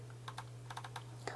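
A Rapoo V300 optical mouse's DPI switch clicks several times in a loose, irregular series, each click short, crisp and close, over a steady low electrical hum.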